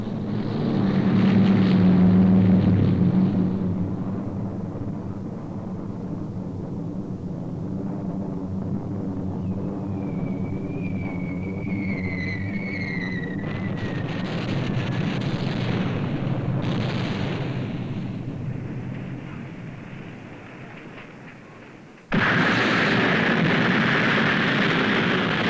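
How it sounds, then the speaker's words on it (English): A wartime British bombing raid on a heavy water plant: a heavy, rumbling roar of aircraft and blasts swells loud, eases into a sustained drone with a thin whistling tone, then cuts sharply into another loud burst. "British bombers are sent in to put the plant totally out of commission."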